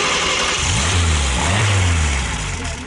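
A 1956 Renault 4CV with a water-cooled engine runs steadily up close, a low throaty idle swelling briefly as if revving, with no talk over it.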